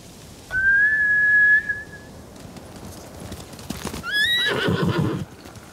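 Horses neigh and gallop in the video game Ghost of Tsushima: a long shrill whinny rings out near, then a second neigh over quick, heavy clip-clopping hoofbeats that fade as the mounts run off.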